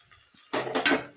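Peeled garlic cloves drop into a pan of sautéing onions for a fish curry, with a short clatter against the metal followed by a brief rising sizzle close by.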